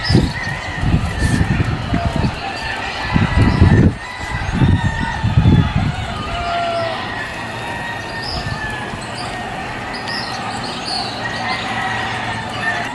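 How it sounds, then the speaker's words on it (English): Roosters and chickens around a house in Naranjito, Puerto Rico, with several crowing calls and clucks near and far, mixed with thumping footsteps or bouncing sounds early on and fading into a steady outdoor background. "There's roosters everywhere."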